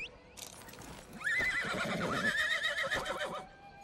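Horse in Elder Scrolls Online Elsweyr neighing loudly in a long shrill whinny while hooves clip-clop beneath, close and clear, with a faint voice in the background.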